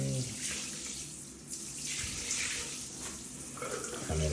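Water from a sprayer rinses across a tile floor during a professional tile and grout deep clean, a continuous rushing splash that swells and fades as it is pushed toward the drain, nearby and steady.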